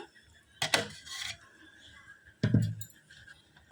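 Batter made from ration rice flour being stirred in a pot to keep it from sticking: two brief scraping, clattering bursts close by, separated by near-silence.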